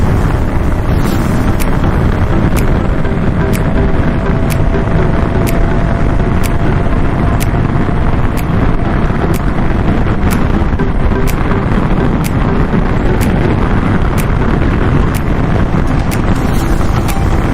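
Heavy wind buffets the microphone outdoors on a road trip in Thailand, a loud, constant roar with faint regular clicks over it and no speech.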